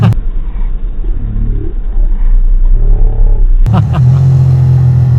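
A Ducati Monster ridden on a sunny day in Central Oregon thrums with a close, loud, low engine rumble buffeted by wind, revving up into a strong steady tone for the final seconds.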